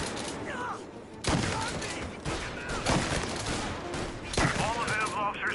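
Gunfire rattles through a shootout in the video game Mafia, dense bursts of shots and automatic fire cracking repeatedly across several seconds, loud and close with voices shouting amid the shooting.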